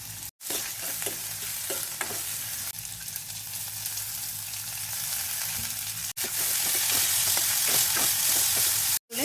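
Ginger and garlic fry in a modest amount of oil for a fish head curry, making a steady, close sizzle with scraping stirs and a couple of brief breaks.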